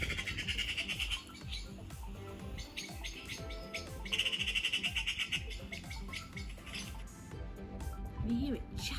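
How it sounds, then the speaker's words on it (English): Magpie calls play back from a recording through a small speaker, with harsh, rapid chattering bursts in two clusters and irregular rattling between them. "on here you can find what a magpie song sounds like."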